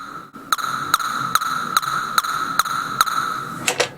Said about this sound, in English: It's just a square wave here, which is quite short, has a lot of reverb on it, and it just sounds like this.